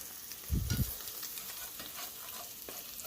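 An egg fries in a pan with a steady sizzle and a brief louder crackle near the start, close and alone with no talk.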